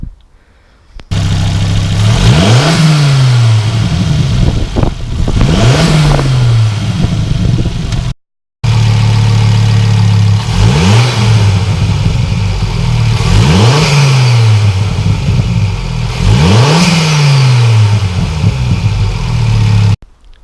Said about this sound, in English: the sound effects from the engine now, with obviously the bigger air filter with the induction kit, sucking in the air, the turbo